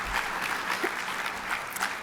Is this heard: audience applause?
yes